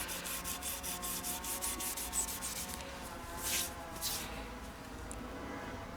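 Pad sanding the neck of a Fender Telecaster guitar outdoors, a continuous close scratchy rubbing with steady back-and-forth strokes and a brief louder pass midway.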